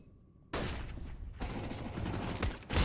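A Mac 10 rattles off rapid automatic bursts in Counter-Strike near city spawn, loud and close, cutting in sharply after a brief quiet start and continuing in dense, overlapping volleys.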